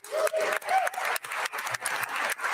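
Applause from a crowd at the Minnesota State of the State address, a steady wash of clapping with some cheering and voices mixed in underneath.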